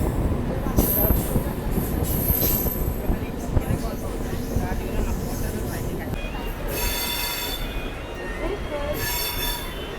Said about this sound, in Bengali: আমার ট্রেন ছেড়ে বেরিয়ে যাচ্ছে ভুবনেশ্বর রেলওয়ে স্টেশন।